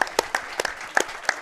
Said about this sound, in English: Minute's applause.